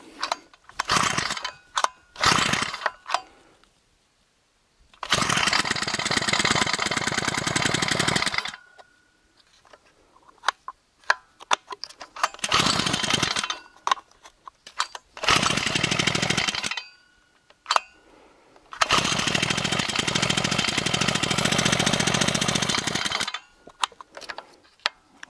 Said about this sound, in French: Je vais pas mettre le starter, je vais voir comment elle démarre par rapport à tout à l'heure